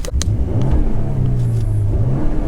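A lifted Ford truck with an EcoBoost engine rumbles and revs nearby after a first start, a loud steady low engine drone with a few sharp clicks at the start.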